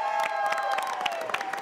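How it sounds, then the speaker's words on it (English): Live studio audience at the Walton Arts Center applauding and cheering, a dense continuous wash of clapping with scattered whoops and shouts, fairly close and steady throughout. "Give yourselves a round of applause."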